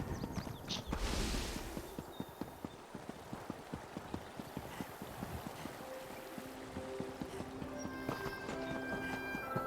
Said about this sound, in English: That's a mini horse.